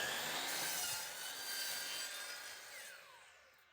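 A DEWALT DWS779 sliding miter saw slices through a board, a loud steady grinding whine of blade in wood that holds for several seconds, then tapers off as the cut finishes.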